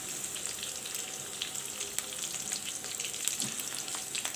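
Vegetables frying in hot oil while preparing plain vegetable chow mein: a close, steady crackling sizzle with dense spitting pops, continuous from start to finish and unaccompanied by talk.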